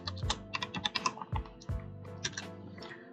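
Typing on a computer keyboard while writing code, a quick irregular run of close, crisp key clicks with a few heavier thumps like a spacebar or enter key.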